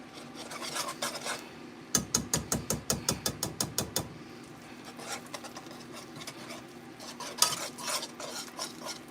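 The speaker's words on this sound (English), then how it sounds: "So we're using a metal whisk." A metal whisk stirs a roux in a pot, scraping in a quick regular rhythm of about a dozen strokes, then slower irregular scrapes and taps at close range.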